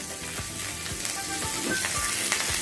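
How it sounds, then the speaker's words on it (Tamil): Mustard seeds and a sprig of curry leaves sizzle in hot oil for a South Indian kootu, a steady close crackle with scattered sharp pops from the seeds, no voices. "இப்போ கொஞ்சம் கடுகு சேர்த்துக்கலாம் கூட. ஒரு கொத்து கருவேப்பிலை சேர்த்துக்கிறேன்."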